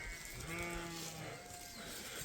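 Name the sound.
flock of sheep and goats bleating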